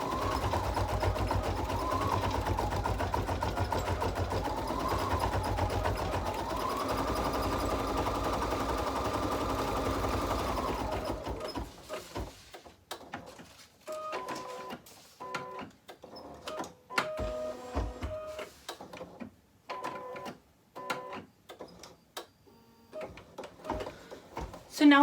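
An embroidery machine stitches out a berries design with a steady buzzing hum and rising-falling motor tones for about eleven seconds, then gives way to quieter clicks and intermittent thumps of handling.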